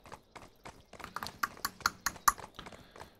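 Horse hooves clip-clop in Black Desert Online, a quick run of sharp close steps with uneven rhythm and a few louder strikes, no voices.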